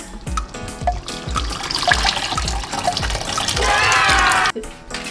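Water pours steadily into a cooking pot while dal makhani is being made, a close, continuous splashing and gurgling under a rhythmic low thudding, cutting off sharply near the end.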